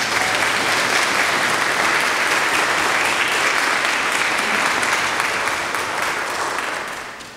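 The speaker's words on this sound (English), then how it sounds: "so we can give her a round of applause." A church congregation breaks into sustained, dense applause at the close of a service, loud and steady for several seconds before tapering off at the end.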